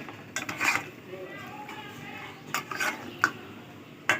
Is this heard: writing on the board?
no